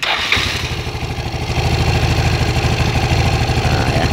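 An underbone motorcycle engine, tested for its oil pump, catches after a brief start and settles into a loud, steady idle with a rapid even thump that runs to the end without talk.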